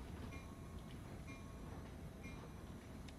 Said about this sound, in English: Sorry, people, this train's not for you.